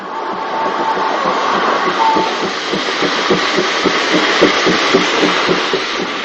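A steam-era railway train at Donegal town station runs in a steady, loud mechanical rumble, with a faint rhythmic clatter throughout and no speech.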